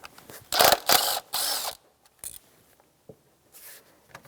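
Ratchet with a 10mm socket loosening an ignition coil bolt on a 2003-2007 Honda Accord 2.4L, heard as two or three close bursts of rapid clicking, then a few fainter isolated ticks.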